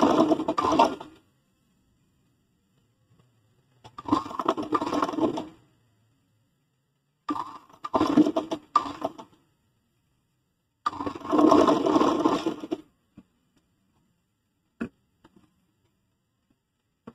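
A sewing machine stitches along the edge of a design on a kurti, running in four short bursts of rapid whirring separated by silent pauses, close and fairly quiet.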